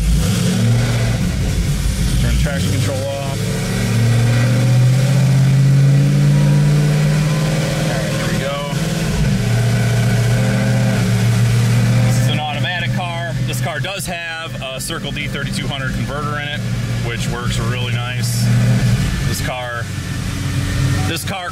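A Magnuson 2650 supercharged ZL1 Camaro engine drones steadily and loud on a dyno, climbing in pitch as it revs up, with a person talking over the mechanical roar throughout.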